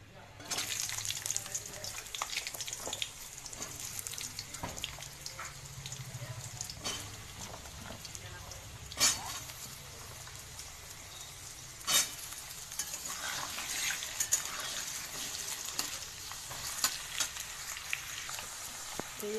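Chopped potatoes sizzle softly in hot oil with whole garam masala spices and bay leaf, a faint steady frying hiss broken by a few sharp clinks and stirring scrapes.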